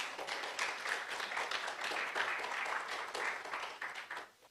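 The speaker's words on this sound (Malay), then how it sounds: "another round of applause" Applause from a seated audience at a symposium session, a steady, moderately faint wash of many hands clapping that holds for several seconds and then tapers off.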